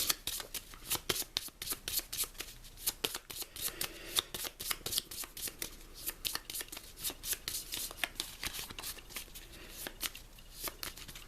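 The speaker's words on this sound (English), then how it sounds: "Draw 6 new cards." Cards from a Legendary Encounters: Predator deck are handled and drawn, a busy run of quick papery flicks and slides, close and fairly quiet, with no talk over it.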